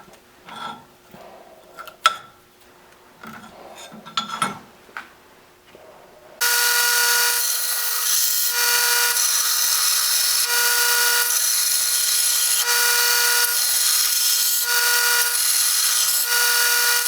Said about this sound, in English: now what I'm going to do is run it like that on the belt, start cleaning up the flat sides